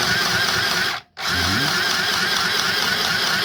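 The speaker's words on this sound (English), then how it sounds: "Make sure you sew through everything here." A sewing machine stitches steadily through a pleated fabric face mask, a continuous close motor whir that cuts out briefly for a moment, then resumes at the same even pace.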